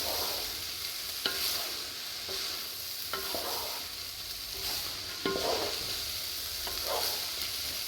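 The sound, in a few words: stirring paneer pulao in a pan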